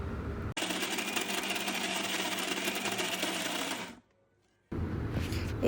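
An electric mixer grinds mutton keema vada paste in one final pulse, a loud, steady whirring buzz lasting a few seconds that cuts off abruptly, followed by silence and then clattering.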